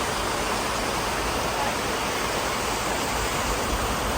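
Floodwater rushes into a house after heavy rain, a steady, dense roar of moving water that continues without a break at close range.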